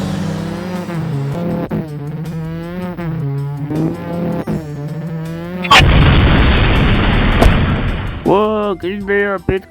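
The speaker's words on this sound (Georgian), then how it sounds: "არა, მანქანა აფეთქდა" A cartoon car explodes in a sudden loud burst of broadband noise and rumble after a stretch of animated voices talking, with a short sharp crack near the end of the blast before voices return.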